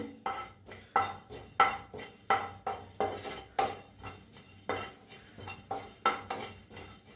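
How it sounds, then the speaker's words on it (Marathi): Coriander and cumin seeds dry-roasting in a pan, stirred in a steady rhythm: a run of about a dozen close scrapes and metallic clinks of spoon against pan, with no speech. "त्याच्यातच टाकूया जिरं बी त्याला बी हलकं भाजून घेऊया"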